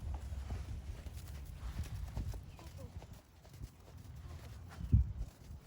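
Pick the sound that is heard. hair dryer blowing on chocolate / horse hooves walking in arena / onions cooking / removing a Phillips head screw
horse hooves walking in arena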